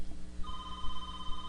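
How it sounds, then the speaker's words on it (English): A telephone rings indoors with a steady electronic tone that starts partway through and keeps ringing over a low background hum. "That's the phone ringing right then."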